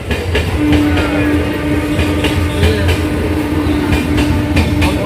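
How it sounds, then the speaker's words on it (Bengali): A train rumbles past close by a level crossing, heard from a stopped e-rickshaw, a steady loud roar with rhythmic wheel clatter throughout. "এই দেখো ট্রেন যাচ্ছে, গেট পার হয়ে আছে"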